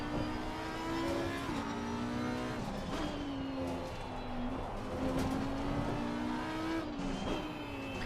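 A GT race car in Assetto Corsa Competizione accelerates hard out of a power oversteer moment, its engine note rising and shifting through gears, steady and moderately loud with no voices.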